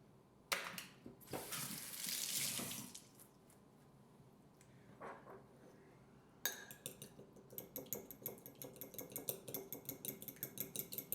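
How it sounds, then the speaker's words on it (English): A fork beats a whole egg with a small splash of water in a bowl, starting with a few scattered clinks and scrapes, then settling into a fast, even run of light tapping against the bowl, quiet and close. "I'll put the egg in a bowl, add a splash of water, less than a teaspoon,"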